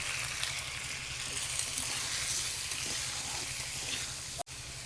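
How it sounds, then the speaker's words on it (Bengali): Mango chutney with turmeric, salt, ginger paste and sugar sizzles and fries steadily in a pan, a continuous close hiss with faint stirring, cut off by a brief knock near the end. "সব কিছু ভালো করে মিশিয়ে ভেজে নিই।"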